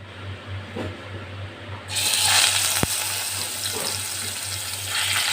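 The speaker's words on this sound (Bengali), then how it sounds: "আমি একটা কড়াইয়ের মধ্যে এখানে তেল গরম করতে দিয়েছি মাছগুলো ভেজে নেওয়ার জন্য" Katla fish pieces frying in hot oil in a wok at home, a loud broad sizzle and hiss that surges up partway through and then holds steady, with a low hum underneath.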